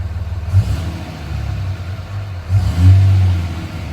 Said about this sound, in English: Really smooth revving.